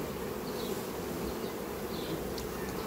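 Honey bees buzz at the hive while fighting off intruding insects, a steady close droning hum with no pauses and brief higher whines of individual bees flying past.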